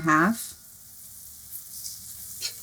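Butter, about one and a half tablespoons, sizzles in a preheated pan while lamb stew is cooked: a loud voiced burst at the start, then a steady soft fry hiss that holds on alone.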